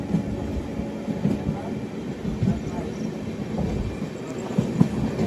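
Amrit Bharat Express train running through Valliyar station in Kerala without stopping, a close steady rumble with rhythmic wheel clatter and a faint high whine, heard from onboard.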